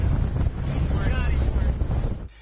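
A Greenpeace environmental patrol ship sails the Pacific in search of a garbage patch, with steady wind buffeting the microphone over low engine and water rumble that cuts off abruptly near the end.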